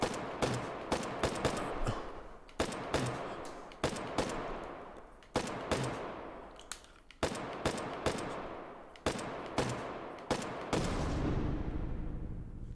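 Repeated gunfire in the VR shooter Hot Dogs, Horseshoes & Hand Grenades, sharp loud shots spaced about a second apart, each trailing off in a long echoing decay, ending in a denser rattle.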